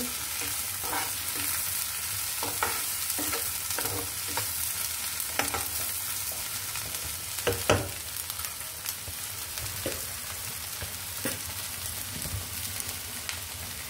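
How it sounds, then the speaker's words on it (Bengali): Onions fry with a steady, close sizzle while a utensil scrapes and stirs them around the pan in scattered strokes, meant for a desi puti fish chorchori. "পেঁয়াজটাকে একটু নেড়ে নেব"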